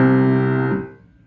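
A piano chord sounds and holds, then is cut off abruptly in a detached style, leaving a short quiet tail; played alone at moderate volume.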